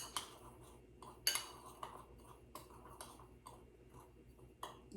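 Garlic salt, oregano and seasonings being mixed together in a bowl, heard as soft irregular clinks and taps of a utensil against the dish, fairly quiet and close.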